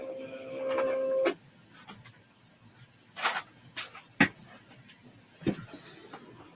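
A Cricut cutting machine pulls in a Cricut cutting mat with a short whirring motor buzz, followed by scattered faint clicks and mechanical knocks in a quiet room.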